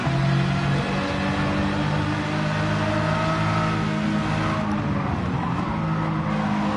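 A Ferrari engine revs and accelerates loudly and steadily throughout, with harmonic engine tones rising and shifting, tire noise underneath and no talking.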